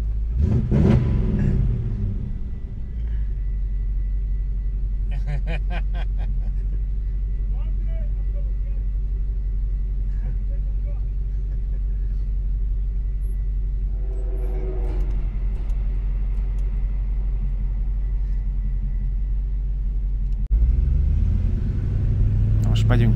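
A car drives along a road with a steady low engine rumble and road noise throughout, the engine swelling briefly toward the end, while people talk faintly inside.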